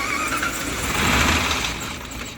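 Starter cranking the engine of a Jeep 4x4 bought as-is at auction that will not start, a continuous close grinding churn with a slight squeal, steady for about two seconds without catching.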